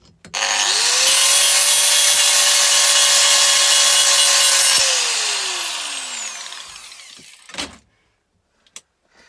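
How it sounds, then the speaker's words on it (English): An angle grinder spins up and is held against a piece of brass, giving a loud, steady high-pitched whine that winds down as the motor coasts to a stop, followed by a few faint knocks. "I can get a grinder and touch it with a grinder."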